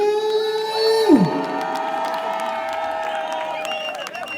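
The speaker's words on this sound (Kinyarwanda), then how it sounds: "Amashyi menshi kuri Babo." An audience applauds and cheers for a young performer named Babo at a Kigali talent show, a steady, dense wash of clapping and crowd noise under sustained musical tones.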